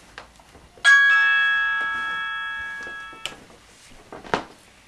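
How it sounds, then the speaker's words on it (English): A single bright bell chime strikes and rings out with a long, slowly fading tone, surrounded by a few quiet clicks and knocks. "The bell invites me."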